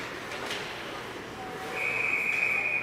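Referee's whistle at an ice hockey game, a steady high-pitched blast starting late and holding to the end over arena crowd noise.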